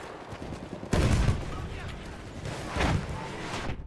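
Battlefield 1 gunfire on PC, bursts of shots with a loud blast near one second and another near three seconds, set against a constant rumble of battle, with someone talking over it.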